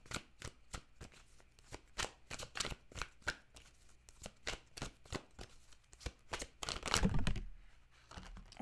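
Tarot cards being shuffled by hand in a series of crisp, rapid riffling bursts, close and fairly quiet, building to a denser flurry near the end with no talking.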